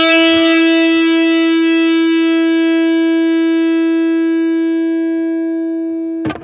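An electric guitar played through the Line 6 Elmsley amp model on a POD GO rings out as one sustained, clean note that slowly decays over about six seconds, with no hum, ending in a brief burst of string noise.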